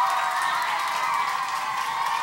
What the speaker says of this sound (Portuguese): Aplausos para essa escola, então,